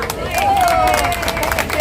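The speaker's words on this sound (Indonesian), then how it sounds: "Tepuk tangan dong." An audience at a women's campaign event for a presidential ticket claps amid crowd babble, a short rattle of applause with a voice speaking over it.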